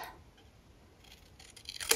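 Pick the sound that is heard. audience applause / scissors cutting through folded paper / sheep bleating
scissors cutting through folded paper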